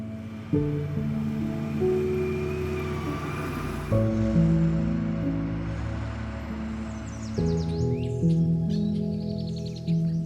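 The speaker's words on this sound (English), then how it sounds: "And the birds were giving us their sign of approval too." Birds chirp and tweet over a steady low rumble of excavator machinery digging dirt, the calls brighter and more frequent toward the end.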